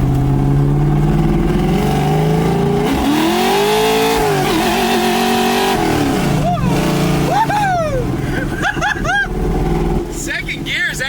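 A 1965 Ford Mustang accelerates hard in second gear, a loud close engine roar climbing in pitch, then easing off with tire chirps and squeals, while people talk excitedly over it.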